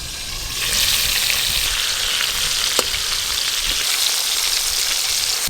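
Brinjal frying in a pan gives a loud, dense sizzle heard up close, holding steady throughout with one brief sharp crackle and no speech.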